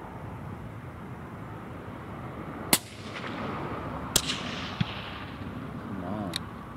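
Two sharp rifle shots fired with Nosler 130-grain RDF ammunition in outdoor target testing, each a loud crack with a rolling echo, followed by a fainter click, over a steady breezy background.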